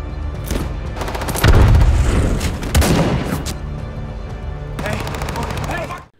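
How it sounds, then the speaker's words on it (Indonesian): A film shootout erupts in a loud, dense exchange of gunfire, with rapid bursts and heavy booming shots layered together at close range and a chaotic rattle continuing to the end. "Vincent yang kepergok oleh anak buah Tai terpaksa menembakkan senjata hingga baku tembak pun terjadi."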